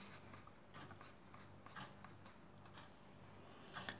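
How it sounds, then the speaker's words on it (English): A pen writes a signature on the back of a playing card, a faint scratchy scribble of short strokes and pauses, close up and quiet. "Now I'm just going to write Pete."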